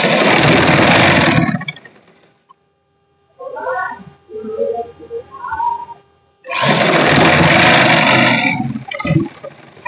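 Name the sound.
sewing machine stitching kurti shoulder seam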